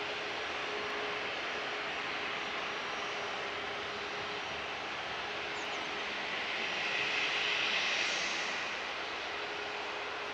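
A Jet2 passenger jet arriving at Manchester Airport, heard as a steady, moderately distant broadband engine roar that swells slightly near the end, with no talk over it.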